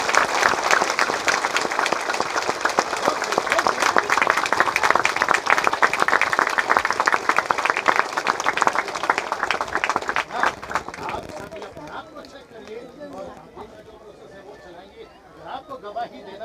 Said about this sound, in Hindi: जोर से ताली बजाकर परमेश्वर को धन्यवाद दें